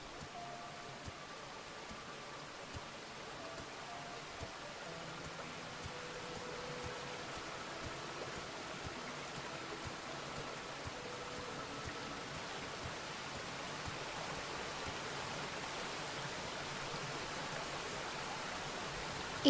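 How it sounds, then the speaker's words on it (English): A waterfall in a video game rushes as a steady, soft wash of falling water, unbroken and even for about twenty seconds, with no voices over it. "we couldn't stay away from the beauty and the breeze of the waterfall"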